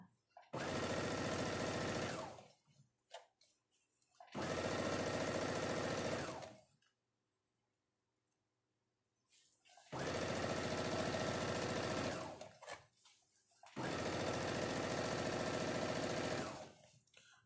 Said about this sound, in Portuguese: vou passar uma costura de pé de máquina unindo essas duas